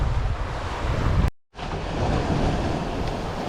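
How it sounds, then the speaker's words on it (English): Wind and waves on open sea aboard a sailboat running with both sails out, a steady rushing roar of wind buffeting the microphone, cut by a brief dropout. "The wind finally came up again."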